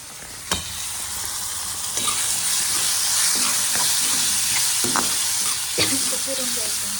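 Val bean pods sizzle steadily as they fry in a pan for a vegetable dish, a close continuous crackle broken by a few sharp clinks and scrapes of a stirring spoon, with no talk.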